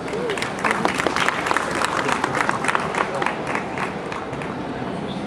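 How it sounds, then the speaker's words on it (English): Audience applause for the Honda Asimo robot after a running demonstration, a dense, steady wash of clapping from a crowd lasting throughout, with a voice or two faintly mixed in. "I think that deserves a clap."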